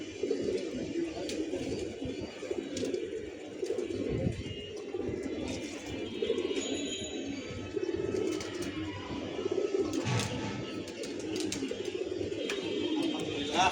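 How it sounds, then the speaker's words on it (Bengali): Pigeons coo repeatedly at close range, a low rolling murmur that continues throughout, with some faint background noise. "আপনাদের 6টা কবুতর দেখাই দিই আপনাদের সবার উদ্দেশ্যে।"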